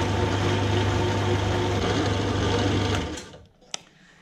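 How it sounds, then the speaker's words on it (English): A drill press runs steadily to spin a speed sensor for a Toyota VVTi 1UZ/3UZ/1JZ speedometer setup, a constant whirring hum that stops near the end, followed by a sharp click. "So with this in the drill press, it allows me to generate a speed signal without starting this noisy engine"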